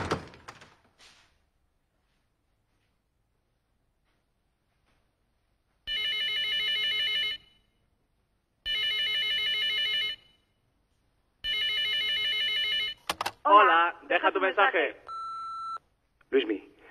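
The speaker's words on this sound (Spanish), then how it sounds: "Luismi, por Dios, coge el teléfono." A telephone rings three times with electronic tones in evenly spaced bursts, loud and clear against near silence, followed by a clatter as the receiver is picked up and brief handling noise.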